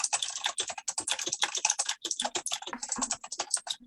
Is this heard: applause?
no